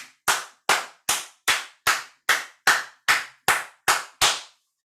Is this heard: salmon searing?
no